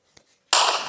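A single firework bursts sharply after a faint tap, its loud hissing crackle filling the moment and then fading quickly.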